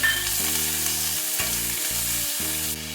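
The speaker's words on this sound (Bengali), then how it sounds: "পেঁয়াজ কুচিটা ভাজতে ভাজতে" Chopped medium onion fries in a little oil for chole masala, a steady broadband sizzle running continuously while sustained musical chords play underneath.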